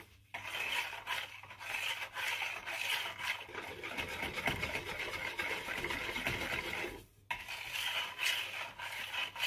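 A soap mixture for peppermint foot scrub being stirred in a bowl, a continuous close scraping and swishing with light clinks, briefly pausing before resuming.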